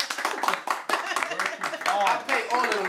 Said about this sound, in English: Studio audience, applaud.